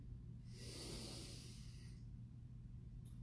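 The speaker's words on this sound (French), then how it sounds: "On inspire par le nez." A slow, steady breath drawn in through the nose during a gentle stretching exercise, airy and close, lasting about a second and a half over a low background hum.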